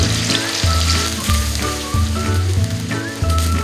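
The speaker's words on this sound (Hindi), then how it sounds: "कढ़ाई के अंदर मैं ये 1 कप ऑयल डालूंगी, इसके साथ मैं ये अदरक लहसुन का पेस्ट डाल के इसको तब तक फ्राई करूंगी" Ginger garlic paste fries in a cup of oil in a karahi, a continuous bubbling sizzle with crackling spits, punctuated by a few low thumps like stirring against the pan.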